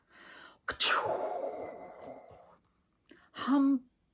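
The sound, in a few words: voice imitating a sneeze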